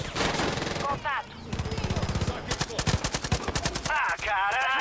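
Rapid bursts of automatic gunfire in the video game Far Cry, loud and close, come in rhythmic volleys broken by short gaps and layered with other game effects.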